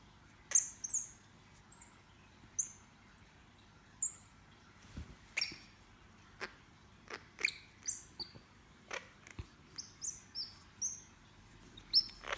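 A pet squirrel monkey gives quiet, high, bird-like chirps and tweets, short separate calls spaced a second or so apart over a faint background, close to the listener, with no talking.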